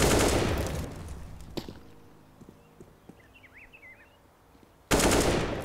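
Counter-Strike match on the Inferno map, with loud bursts of gunfire at the start and end framing a quieter middle of faint footsteps and scattered small clicks.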